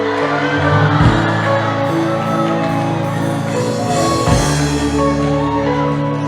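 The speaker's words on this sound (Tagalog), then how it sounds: "Sigawan po yung katabi nyo pagsabi sa kanya" A church congregation shouting together at the people beside them, a dense wash of overlapping voices with steady music droning underneath, loud and continuous.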